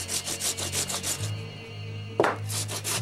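Carbon fiber resin on a motorcycle repair is hand sanded with a sanding block and 40 grit sandpaper, producing rhythmic back-and-forth rasping strokes, close and steady, broken by a brief pause and a knock.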